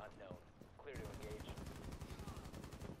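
Rapid automatic gunfire from Rainbow Six Siege gameplay, a dense, loud stream of shots that starts after a short burst of earlier shots and muffled voices and continues without a break.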